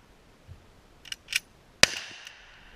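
Gunfire at an outdoor shooting range with orange targets: a couple of faint distant pops, then one sharp, louder crack with a short ringing tail, spaced irregularly over near silence.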